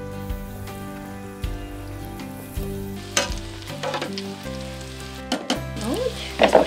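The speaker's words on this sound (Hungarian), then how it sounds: "Az elsőt, amit először kiszaggattuk, azt tesszük bele az olajba, ami felül volt, az lesz alul az olajba" Doughnut dough fries in a lidded pot of hot oil, giving a steady, close sizzle with crackles and a few sharper pops and clinks throughout.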